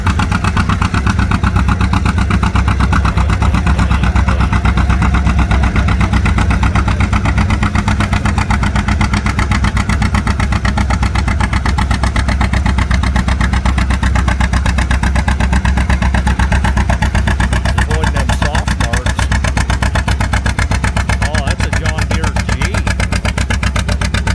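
Tractor engine under heavy load at a tractor pull, a John Deere among Farmall and John Deere pullers, a loud steady low rumble with rapid firing pulses running throughout, with crowd or announcer voices mixed in.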